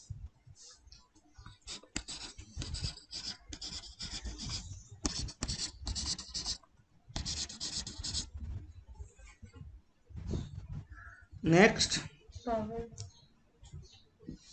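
A pen moves across paper in bursts of scratchy strokes, close and moderately loud, with a voice briefly speaking near the end.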